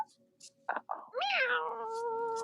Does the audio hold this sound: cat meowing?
yes